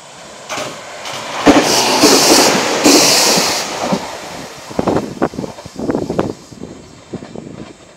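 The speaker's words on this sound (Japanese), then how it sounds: "上り8600系石槌号が通過です。" A JR 8600 series Ishizuchi limited express train passes through a coastal station, a loud close rushing roar followed by rhythmic clattering wheel beats as the cars go by.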